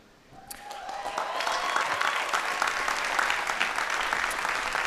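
Audience applause at a university award ceremony, starting abruptly after a moment of quiet and swelling into steady, dense clapping from a large crowd that continues evenly to the end.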